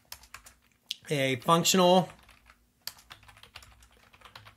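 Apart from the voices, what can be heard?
typing on a computer keyboard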